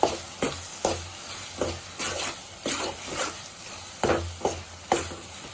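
A spoon stirs ginger garlic paste into fried onions and tomatoes in a pan for egg cashew curry, with regular scraping strokes about every half second over a soft steady sizzle.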